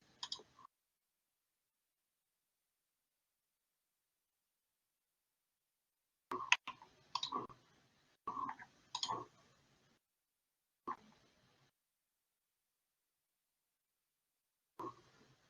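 Keys pressed on a calculator or computer while entering a calculus function: sparse clusters of soft, quiet clicks separated by long silences, nearby, no talking.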